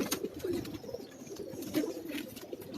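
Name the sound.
pet pigeons cooing on a rooftop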